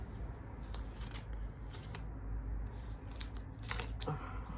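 Soft, repeated papery riffling and flicking of oracle cards being shuffled close by, quiet and uneven over a low background hum.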